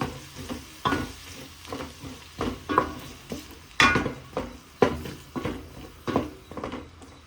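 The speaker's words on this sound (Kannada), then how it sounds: "ಇವಾಗ ಈರುಳ್ಳಿ ಕಟ್ ಮಾಡಿದ್ವಲ್ಲ ಅದು ಸ್ವಲ್ಪ ಚೆನ್ನಾಗಿ ಫ್ರೈ ಆಗಲಿ." Chopped onions fry in a pan for fish curry, a sizzle broken by a regular series of spatula scrapes and stirs, close and moderately loud, with no speech.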